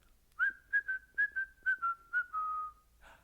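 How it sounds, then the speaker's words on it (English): A single person whistles a short tune, several clear repeated notes ending in one long held note, close and alone. "I hear a zookeeper whistling in my ear"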